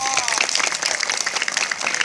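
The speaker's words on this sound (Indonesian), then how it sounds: "Tepuk tangan untuk beliau." A school audience claps at a Maulid Nabi commemoration at a high school in Banjarmasin, sustained, dense applause from a large crowd, fairly loud and even, with a brief voice or tone at the start.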